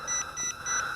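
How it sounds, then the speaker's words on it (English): An HJ933 nano drone quadcopter emits a rapid series of short electronic beeps, about four evenly spaced pulses in a second, faint against a quiet background. "you hear that beeping, that rapid beeping, that tells you that the quadcopter is ready to flip"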